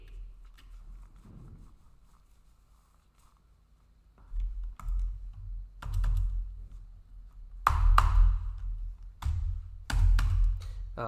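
Clicks and taps on a computer keyboard come in scattered bursts after a quiet start, close and fairly sharp, with irregular spacing between keystrokes.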